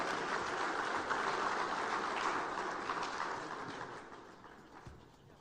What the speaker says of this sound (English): Oh, a round of applause for us.